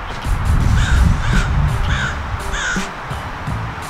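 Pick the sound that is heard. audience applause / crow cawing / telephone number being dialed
crow cawing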